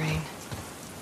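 Steady rain falls in The Last of Us Part II, a dense close hiss of drops on surfaces filling the whole brief moment, with a short tonal blip at the start.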